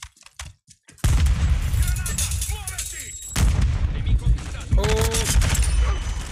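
Rapid bursts of automatic gunfire and heavy booming shots crackle in the video game Warzone 2.0, dense and loud after a quiet start, with a player's voice speaking now and then.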